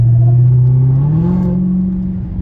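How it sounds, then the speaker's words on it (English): A 2020-2023 widebody Dodge Charger Hellcat with a 6.2L engine and a very loud exhaust gives a deep, close drone that climbs in pitch partway through as it accelerates, then holds steady. "It's obnoxious how loud this car is. It sounds like a NASCAR"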